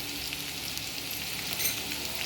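Ginger and turmeric sautéing in a pan for vegetable upma, giving a steady close hiss of frying oil with a soft crackle, constant and even for the brief moment.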